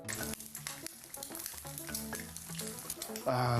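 Eggs frying in a pan heated by dry alcohol fuel, a continuous sizzle heard under music, growing louder in the final moments.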